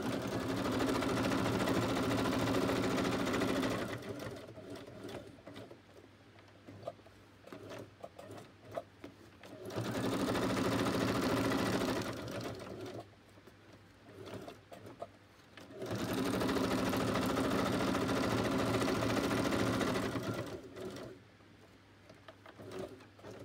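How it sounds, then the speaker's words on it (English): A sewing machine runs in three long, steady bursts of close mechanical whirring, with quiet pauses between them where faint cooing birds can be heard. "So we'll just quickly stitch that one."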